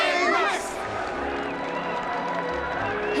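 Crowd of Nameless in Honkai: Star Rail's Penacony cheering and applauding, a dense roar of many voices with claps and a few rising shouts, loud and sustained throughout over game music.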